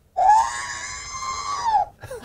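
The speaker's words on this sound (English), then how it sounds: "one of the ones that I think everybody kind of relates to the most are sounds from R2-D2" A single high, wavering electronic whistle in the style of R2-D2 from a Star Wars notebook, rising and then falling over about two seconds, followed by a brief burst of chirps.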